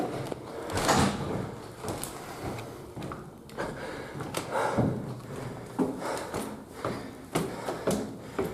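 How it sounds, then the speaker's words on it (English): A wooden door in a Bigfoot horror video game creaks and bumps open through a series of scraping, knocking movements over several seconds, close and fairly loud. "A door. They better be unlocked."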